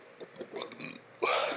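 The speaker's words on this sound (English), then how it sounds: "I burp a lot." A single short, throaty burp from a man, close and moderately loud after a few soft mouth sounds.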